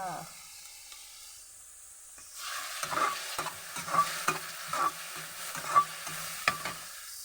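Vegetables stir-fried with pork in a pan: quiet at first, then a soft sizzle with repeated scraping strokes of a spatula, heard up close in an irregular rhythm.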